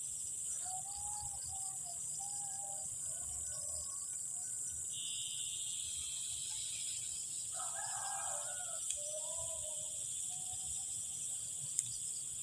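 Crickets in the afternoon chirp in a steady, high, continuous drone, while a rooster crows faintly in the distance.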